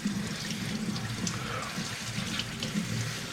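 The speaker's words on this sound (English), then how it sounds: "just try to rinse all the way through" Tap water runs steadily into a kitchen sink while chickpeas are rinsed, a continuous close splashing hiss with no talk over it.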